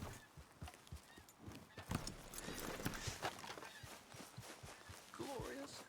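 Hooves of a mare clip-clop at a walking pace in the Red Dead Redemption 2 video game, rhythmic and fairly faint, with a brief whinny-like call near the end.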